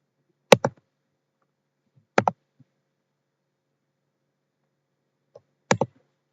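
Computer mouse clicks while tensile test data for steel reinforcement bars is entered, three sharp double clicks spaced over several seconds, close and crisp, in near silence.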